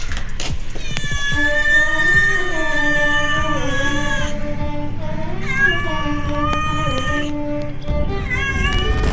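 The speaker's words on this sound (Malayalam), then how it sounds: "കുറെ കഴിഞ്ഞപ്പോൾ പൂച്ച കരയുന്ന ശബ്ദം കേട്ടു." A cat meows in long, wavering, drawn-out cries near an old house, captured on a mobile phone; the calls rise and fall over about nine seconds with a short break near the end.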